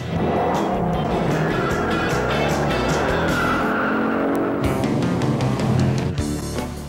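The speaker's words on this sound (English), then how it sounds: "Screeching rubber through turns, roaring down back streets and country lanes" A roaring American muscle car charges along back streets and country lanes, its engine loud and sustained throughout while tires screech and skid through turns, with a sharper squeal near the end.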